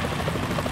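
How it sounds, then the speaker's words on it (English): Helicopter flying in the video game Metal Gear Solid 2: a steady, loud rotor drone fills the whole brief moment with no pauses. "Is that a chopper I just heard?"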